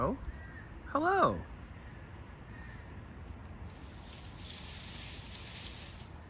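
A crow along a lakeside bicycle trail gives a short burst of harsh caws, close and clear, over steady outdoor wind noise and light hiss.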